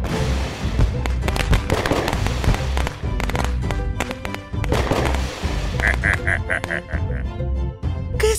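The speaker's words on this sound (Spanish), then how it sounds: "Necesitamos analizar los fuegos artificiales que faltan." Cartoon fireworks burst in a dense run of sharp pops and crackles for several seconds, loud and close, with bright whistling tones near the end and no speech.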